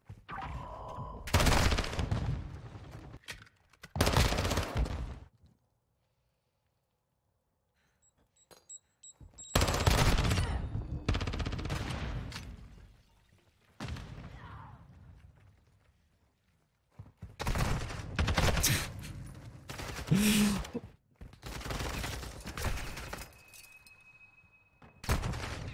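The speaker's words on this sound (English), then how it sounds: "why are you shooting bodies" Gunfire crackles in bursts from an online ranked shooter game, several loud volleys separated by short quiet gaps.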